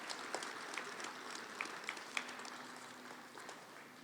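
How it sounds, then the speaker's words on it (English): Faint, distant applause at an outdoor Veterans Day ceremony for high school Army Junior ROTC cadets, soft continuous clapping with a few sharper claps standing out over a low background hum. "how about a round of applause for the Blair High School Army Junior ROTC?"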